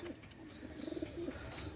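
A pair of Pakistani pigeons coo softly nearby, with a few low, throaty, rolling coos over a quiet background.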